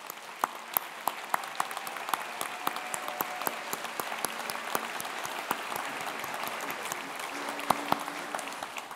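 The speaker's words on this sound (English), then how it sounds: "How about we all give a final round of applause to your friends and family and everyone who has" Audience applause at a nursing school commencement ceremony, a moderate, steady patter of many hands clapping in a large venue, sustained throughout with scattered sharper claps standing out.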